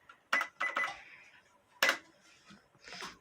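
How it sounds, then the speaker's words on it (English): Cash register keys are pressed one at a time, several sharp clicks close by with short pauses between them, then a softer rattle at the end, with no talk. "this is simply how you work a cash register"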